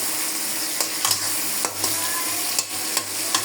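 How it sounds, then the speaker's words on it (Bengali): Chopped onion and tomato sizzle steadily in a hot pan while a utensil stirs and scrapes at intervals, close and clear. "এখন ভালো করে গোটা ভাজা হোক"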